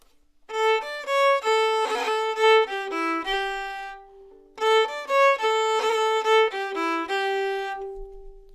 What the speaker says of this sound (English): Another thing that we could do is play some crayons on the long A's in the A part.